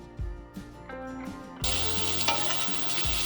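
Wagyu osso buco searing in a hot pan, a steady bright sizzle with a few knocks and scrapes as the meat is moved.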